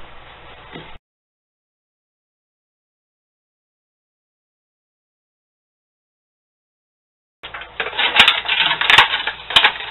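A utility knife with a fresh blade slices the excess from an aluminum turkey roasting pan being made into a windscreen. A brief crinkle gives way to a long silence, then a close, loud run of crunching, crackling metal.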